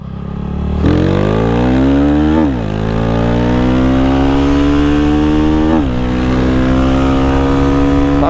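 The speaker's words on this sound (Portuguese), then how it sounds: "Deixa eu fazer uma arrancada pra vocês verem." A 190 cc motorcycle running a partly ethanol fuel blend accelerates hard from a standing start, its engine revving loud and close, rising steeply through two quick gear shifts and then holding at high revs with no talking.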